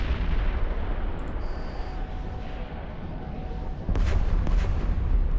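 Ship weapons fire in the EVE Online space game, a continuous heavy rumbling barrage with deep booming thuds that swell louder toward the end, with no speech.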